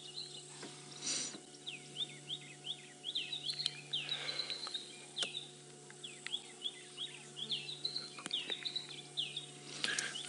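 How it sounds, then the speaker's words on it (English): Birds call repeatedly in the African bush during a morning safari drive, a fairly faint series of quick chirping, whistled notes in clustered bursts over a steady low mechanical hum. "Some wonderful bird calls around."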